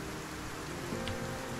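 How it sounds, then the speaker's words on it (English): Steady rain at night in the video game Project Zomboid, a soft continuous patter of drops holding an even level throughout with no voices. "It's nighttime and it's raining."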